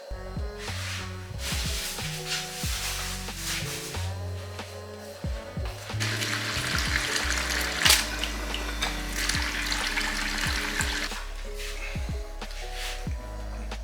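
Water flushing through beer tap lines in a shop, with gushing, spraying bursts and intermittent clunks and knocks as the taps are worked, close and busy.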